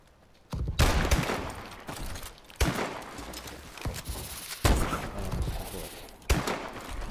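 Bursts of gunfire from Call of Duty: Advanced Warfare, four loud volleys of rapid shots at irregular intervals with sharp onsets, each trailing into echoing fire and game noise.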